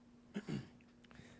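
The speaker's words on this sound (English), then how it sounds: "Let me clear my throat." A throat is cleared once in two short, low rough bursts, close and quiet against a faint background hum.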